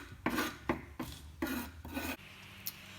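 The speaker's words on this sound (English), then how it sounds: "you can just add the apples to the batter as you cut them" Apples being cut by hand into cake batter: a series of about five rough scraping, rasping strokes in an uneven rhythm, close and moderately loud, with no talking.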